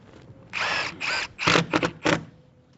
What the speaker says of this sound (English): We screw the perimeter with our 40s into our batten that we put on there.